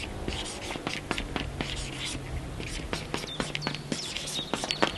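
Chalk or marker scratching out strokes on a classroom board, a run of quick taps and scrapes in irregular rhythm, close and fairly clear, with soft voices murmuring alongside.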